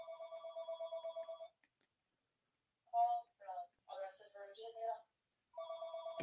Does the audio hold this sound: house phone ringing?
yes